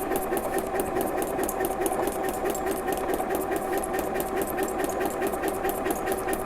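A sewing machine stitches on paper in a beginner practice exercise, a steady, loud, close mechanical hum with a fast regular needle rhythm that runs without pause and without speech.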